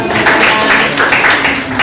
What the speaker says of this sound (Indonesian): Terima kasih dan beri tepuk tangan untuk Nabila.